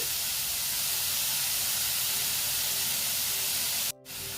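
Onion and garlic fry in oil in a pan, giving a steady, close hiss and sizzle throughout that cuts off abruptly near the end.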